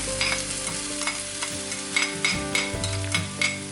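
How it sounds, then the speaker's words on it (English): Ginger garlic and onions fry in a pan for a mussels chilli fry, a steady close sizzle punctuated by rhythmic stirring scrapes about twice a second, with a low tonal hum running underneath. "I'm going to add the onions on one side, and what I'm going to do on the other end is I'm going to throw in the ginger garlic."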